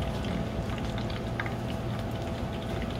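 Batter for mixed tempura of shrimp and vegetables frying in hot oil, a dense, steady bubbling crackle that carries on without a break and sits close and moderately loud.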